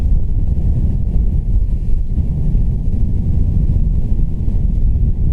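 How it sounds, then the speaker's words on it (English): Strong wind gusts of 60-plus miles per hour blasting at the back of someone outdoors, a heavy, continuous low roar and rumble buffeting the microphone, loud and close, with no talking. "some of these gusts are literally 60 plus miles per hour. But the wind is hitting my back"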